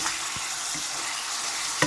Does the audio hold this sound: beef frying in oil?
yes